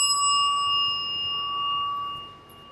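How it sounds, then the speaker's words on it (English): A single rung bell gives a clear, sustained metallic tone that slowly fades, heard alone in a quiet room with no talk. "Oh, I forgot to ring the bell."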